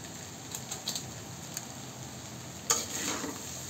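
Noodles tossed with sprinkled seasoning in a pan give a soft, steady stir-fry scrape over a faint sizzle, with a few sharper clinks of the utensil against the pan, including one clear knock near the end.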